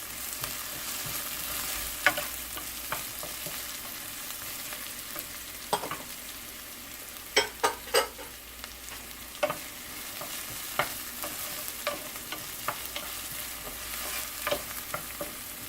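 Two green chilies fry in a pan for pav bhaji while being stirred. A quiet, steady sizzle runs throughout, broken by irregular scrapes and clicks of the spoon against the pan.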